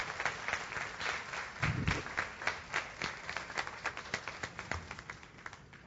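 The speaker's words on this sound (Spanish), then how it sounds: "Si lo va a aplaudir, apláudalo" A church congregation claps in a fairly sparse, rhythmic pattern, individual hand claps distinct and evenly spaced, continuing for several seconds at moderate volume with little talk.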